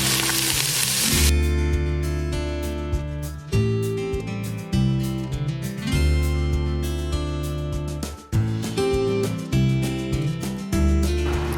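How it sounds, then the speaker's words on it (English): Onions and peppers sauté in avocado oil over high heat, giving a steady sizzle that runs through the whole stretch beneath a strong, continuous tonal layer, with no talking. "I always use avocado oil for high heat. And saute the onion and peppers first."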